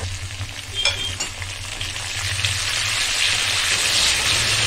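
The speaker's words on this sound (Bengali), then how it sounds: "আদার কাঁচা গন্ধটা চলে গেলে একটা টমেটো কুচি দিয়ে দেব।" Chopped tomato dropped into hot oil with tempering spices and ginger paste for a vegetarian potol dish, producing a crackling, rain-like fry that swells louder and steadier, with a few light utensil taps over a low background hum.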